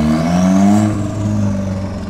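Turbocharged offroad Mazda Miata revving hard while driving off, a loud rising engine note with strong harmonics that peaks and then eases into a steady drone, close and without voices.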